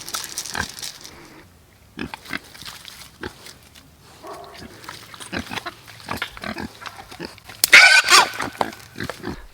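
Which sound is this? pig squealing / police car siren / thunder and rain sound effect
pig squealing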